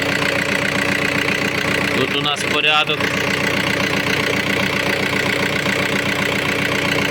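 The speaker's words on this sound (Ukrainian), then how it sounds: "Так, можемо чути, що автомобіль вже працює" Volkswagen Touran 1.9 TDI diesel engine idling after repair of its accessory drive with a new pulley and compressor, a steady close hum running throughout, with someone speaking briefly over it midway.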